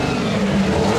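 Racing car engines roar steadily at the Le Mans circuit near the Hunaudières straight, a continuous loud mechanical drone with no speech over it.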